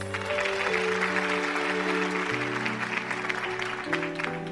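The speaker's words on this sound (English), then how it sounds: "Let's give them a warm round of applause." An audience applauds award winners at a village ceremony, a dense, steady patter of clapping running beneath sustained music chords throughout.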